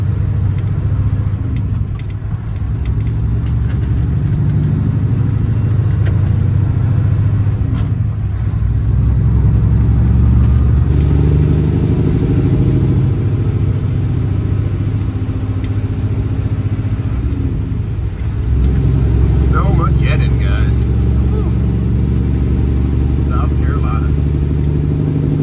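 Inside a car cruising on a busy highway with traffic around, a continuous low road and engine rumble persists throughout, with a few swells as vehicles pass and someone talking over it.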